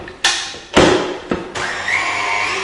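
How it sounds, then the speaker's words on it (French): Egg yolks and a whole egg whisked at the start of a frozen Grand Marnier soufflé, a few sharp knocks and thuds followed by a steady, loud whirring beat close by. "Je prends les jaunes et l'œuf entier qu'on va foisonner. On va fouetter."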